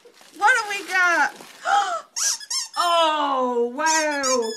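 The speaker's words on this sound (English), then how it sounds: "It's a squeaky boot." High, rubbery squeaks from a squeaky toy boot, given as a Christmas gift, come in a run of repeated bursts of varying length, loud and close, with someone nearby.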